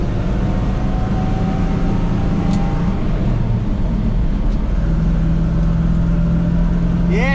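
A car engine runs steadily after its spark plug wires were changed, a continuous mid-pitched drone heard close with slight shifts in tone and no talking.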